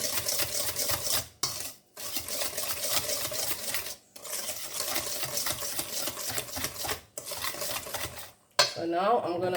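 A spoon works softened unsalted butter around a bowl for coconut rolls, producing close, rhythmic scraping and stirring in long bursts separated by brief pauses.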